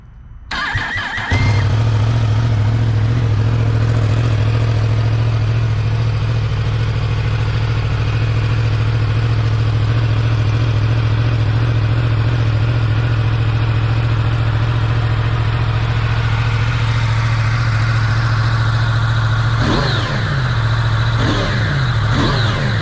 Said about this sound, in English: it's gonna be a cold start. I want to show y'all before we put this exhaust on. Show you how it sounds.